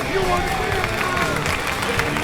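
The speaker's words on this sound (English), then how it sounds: "Give him a nice round of applause." Audience applause and crowd noise for a race contestant at Atco Dragway, a steady dense wash of clapping and cheering that holds at an even level for the whole stretch.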